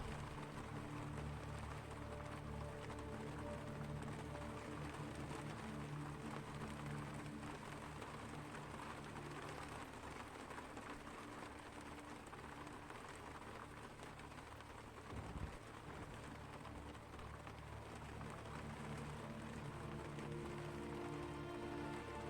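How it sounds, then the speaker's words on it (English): Rain falls in a steady, soft, continuous patter on surfaces, faint and even for the whole stretch, with no voices. "Oh, this rain. It sounds so cool."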